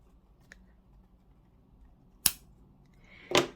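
Scissors snip through paper yarn during a left-handed crochet bucket hat project, giving two quiet, sharp cuts about a second apart in an otherwise still room.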